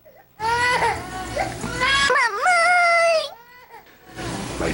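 A young child cries and screams loudly in rising, wavering wails, with short breaks between outbursts.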